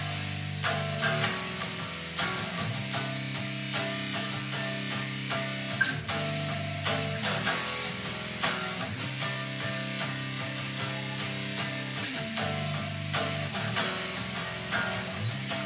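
Electric guitar riff on the low bottom two strings, a repeating chugging pattern of sustained low notes with steady rhythm, played alone at moderate loudness.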